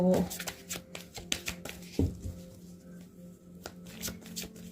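An oracle card deck is shuffled by hand close up, giving soft papery riffles and light taps in short bursts, with a quiet voice faintly present.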